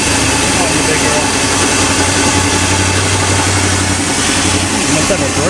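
A big block Chrysler car engine runs steadily at a rough idle, a loud continuous low rumble with a persistent mechanical hum, close by and unbroken.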